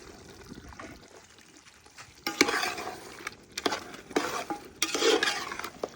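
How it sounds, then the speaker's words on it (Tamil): A spoon stirs chicken biryani gravy mixed with curd in a pot, giving soft wet scraping and sloshing in irregular bursts that grow busier toward the end, with no talking. "அப்படியே மிக்ஸ் பண்ணி விட்ருவோம் நம்ம எல்லாத்தையும்"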